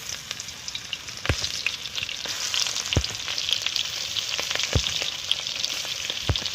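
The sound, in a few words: prawns frying in oil in a wok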